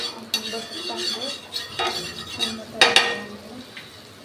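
A sandwich toasts in butter in a pan as a metal spatula clinks and scrapes against it repeatedly, above a faint sizzle, with one louder clatter near the middle.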